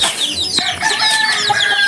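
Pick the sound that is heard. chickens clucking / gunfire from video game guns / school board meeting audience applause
chickens clucking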